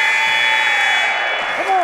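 An end-of-quarter buzzer sounds in an arena during a basketball game, a steady tonal blare running the full length of the clip over crowd noise, with a commentator's voice underneath.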